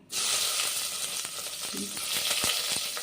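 Chopped onions sizzling as they drop into hot oil with whole spices for sweet corn veg pulao, a loud steady frying hiss with a few soft stirring knocks, close and without talk.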